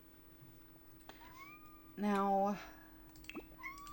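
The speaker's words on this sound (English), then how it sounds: "if you're hearing a baby scream, mind you, that's my cat." A house cat lets out one loud, drawn-out, wailing meow that sounds almost like a screaming baby, rising sharply out of a quiet room and lasting about half a second, with a brief spoken word and a few faint chirpy sounds around it.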